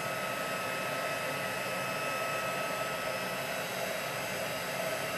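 A heat tool blows steadily while it melts embossing powder on vellum. The hiss is close, even and constant, like a hair dryer, and no one talks.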